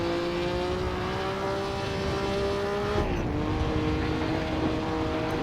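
A historic 1950 Formula One car in the Assetto Corsa racing game at Bremgarten for the Swiss Grand Prix, its engine a steady, close, loud drone with one gear change partway through.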